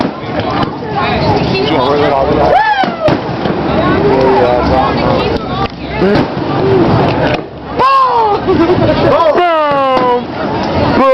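A fireworks display in Decatur, Illinois sounds as scattered booms and crackles beneath loud crowd chatter, with whistling rockets rising near the end.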